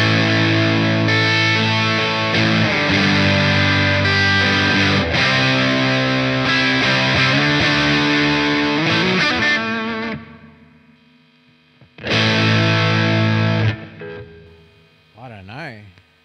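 An electric guitar played through a DemonFx overdrive preamp rings out with thick, distorted sustained chords, cuts off briefly, then returns for another loud strummed burst.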